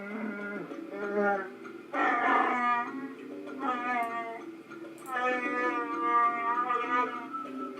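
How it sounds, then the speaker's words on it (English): Alien speech made of growls and howls from the Star Wars: Knights of the Old Republic video game, a continuous stream of throaty, moaning vocal sounds at moderate level with no other speech. "It isn't an easy language to learn, what with all the growls and howls."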